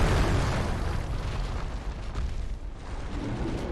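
The dragon Midir's laser breath attack in the Dark Souls 3 video game, a sustained roaring, rumbling blast that stays loud and steady for several seconds.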